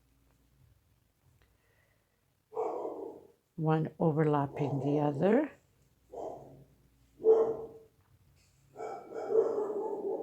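Dogs going wild, apparently at a cat: intermittent excited barks and yelping whines in a few separate bursts, moderately near, with a voice briefly overlapping.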